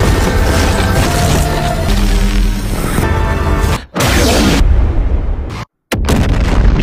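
A roaring, booming blast from Godzilla's atomic breath fills the air with heavy rumble, cut by a brief dropout and sudden silence before the roar returns.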